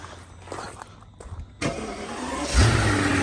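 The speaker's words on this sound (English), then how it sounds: "Now we can start the engine" A Mercedes S600 W221 starting up in a workshop, with a few quiet clunks and footsteps, then the starter cranking and the engine catching with a rising rev before settling, close by.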